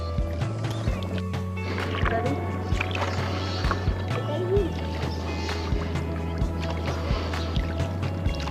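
A boat out on the quiet Kangsabati dam reservoir, with a low steady drone and soft water splashes, while people talk over it.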